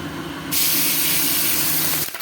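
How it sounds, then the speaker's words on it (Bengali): A loud, steady sizzling hiss bursts up suddenly and holds close by as morola fish fry in hot mustard oil, then cuts off near the end. "বাকি মাছগুলো ভেজে নিচ্ছি"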